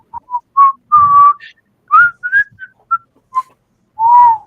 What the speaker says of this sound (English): you hear a whistling headed like in your direction